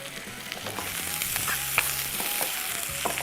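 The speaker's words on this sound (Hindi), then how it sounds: "प्याज को थोड़ा सा कर रहे हैं फ्राई" Onions fry in a hot pan on a home stove, a steady close sizzle with faint clicks and scrapes of stirring throughout, no voices.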